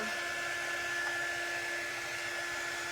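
A hair dryer runs steadily, drying craft cutouts up close, its even whirring hum holding constant throughout with no talk.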